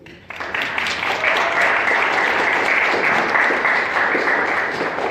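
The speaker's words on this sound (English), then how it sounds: "Give her a round of applause." A town hall forum audience at a community college breaks into applause for a student speaker, the clapping starting abruptly and holding loud and dense for several seconds.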